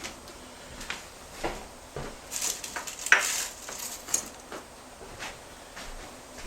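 Onions and other ingredients get stirred together in a skillet for an onion and bacon pie, with soft scraping, light clinks and shuffling strokes at an irregular pace, close and fairly quiet, with no talking.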